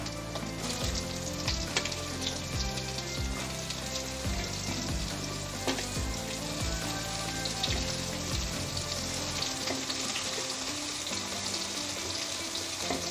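Ridge gourd dropped into oil with already-fried potatoes for a Bengali mung dal dish, giving a strong, steady sizzle with crackling bursts close to the pan throughout and no talking.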